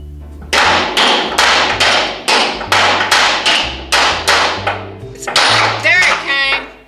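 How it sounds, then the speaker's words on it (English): A hammer strikes bolts on a square-body Chevy truck repeatedly, a dozen loud, ringing metal blows at a steady rhythm, with a quicker cluster of hits near the end. "I'm gonna hit them with a hammer and see if they pop out."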